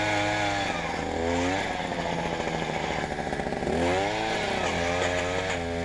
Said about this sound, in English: That gear drive you can hear bogged down.